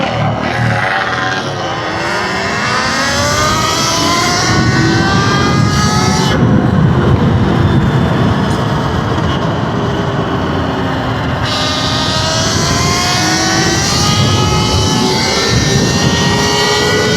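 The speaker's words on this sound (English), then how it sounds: "They're riding mini bikes, gas bikes." Gas-powered mini bikes ridden and revved outdoors at a river basin, their small engines buzzing loudly and continuously, pitch rising and falling through repeated throttle sweeps over the whole stretch.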